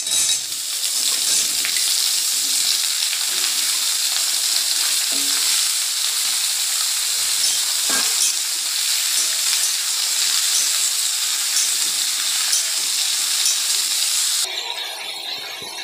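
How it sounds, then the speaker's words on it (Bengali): Ridge gourd and potato pieces fry with onion in a pan, giving a steady, loud sizzle and hiss that runs unbroken with occasional stirring scrapes and no talk. "আলুটা ঝিঙেটা একটু ভাজা ভাজা করে নিলাম"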